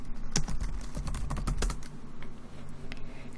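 Typing on a computer keyboard while renaming a student in a Zoom class, a quick run of close, crisp key clicks and taps, then lighter sparse taps, with no talk.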